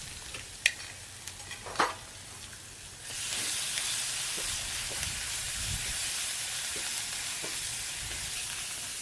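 Green chillies and garlic hitting hot oil in a village kitchen, a few knocks first, then a steady loud sizzle that jumps up around three seconds and keeps hissing to the end.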